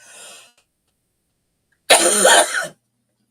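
A brief faint rasp, a pause of silence, then a loud close throat-clearing cough lasting under a second.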